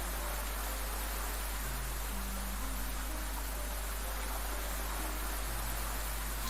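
Steady hiss of rain in the Doki Doki Literature Club Convergence mod, a continuous even wash of falling drops with faint low background tones and no talking.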